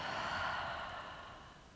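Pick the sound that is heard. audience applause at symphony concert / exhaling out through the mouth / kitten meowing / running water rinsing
exhaling out through the mouth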